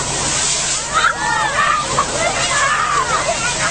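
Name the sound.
water sloshing in a water tank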